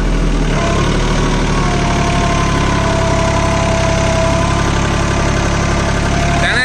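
A Swaraj Target 630 4WD mini tractor pulls a cultivator at full depth in second gear, its engine chugging loud and steady and straining under load, with no voices.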